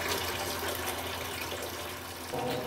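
Cold tap water gushes into a container being filled with about 2.5 gallons for home beer brewing, a loud, steady, close rush that runs without break.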